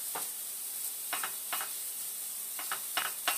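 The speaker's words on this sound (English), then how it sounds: "We want to sweat these shallots down." Diced shallots sweating in a pan give off soft, intermittent sizzles over a steady hiss, with short bursts of crackle every second or so and no talking.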